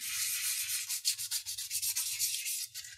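Sandpaper rubs steadily over the rough edges of a watercolor paper pendant, a close, continuous scratchy abrasion in quick repeated back-and-forth strokes with no talking.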